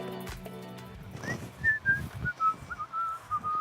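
A man whistles a wandering, tuneful melody while working among organic herbal plants he grows and picks, the clear notes rising above soft, irregular thumps and rustling from nearby handling.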